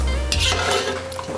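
Pumpkin mix for a gratin tipped into a colander to strain, giving a short wet scrape and clatter of metal against the bowl, close and fairly loud, with no talking.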